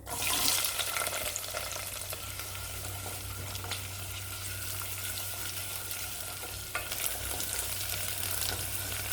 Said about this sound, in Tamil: கொஞ்சமாக சோம்பு வெங்காயம் சேர்த்து வதக்கிக்கலாம்